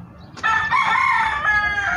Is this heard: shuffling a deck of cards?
no